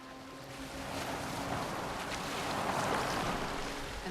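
A boat sails the sea in Assassin's Creed Valhalla, a steady wash of waves and wind swelling gently around the hull, continuous and fairly close, with no voices.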